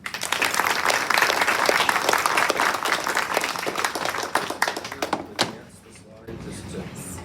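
Audience at a talk on the life and legacy of Robert Heysham Sayre, clapping loudly and continuously as the speakers are welcomed, then tapering off into scattered claps, a thump and room murmur.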